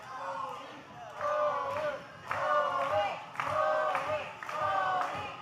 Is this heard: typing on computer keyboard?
no